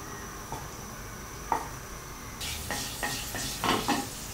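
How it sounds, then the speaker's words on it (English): Butter melting in a saucepan gives a low, steady sizzle that brightens partway through, with a few light knocks and scrapes of a utensil against the pan close by. "Melt the butter in the saucepan."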